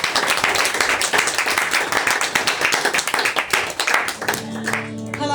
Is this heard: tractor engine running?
no